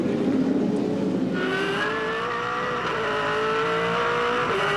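V8 Supercars race at Eastern Creek in 2004, their engines roaring loudly and holding a high, droning pitch with slight rises as a car runs hard out of a corner, with no talk over it.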